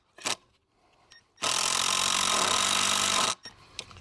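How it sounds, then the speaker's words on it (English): A power drill whirs steadily for about two seconds as a screw is driven into wood while assembling a bird feeder, with a few clicks and handling knocks before and after. "Go ahead and put the first screw in."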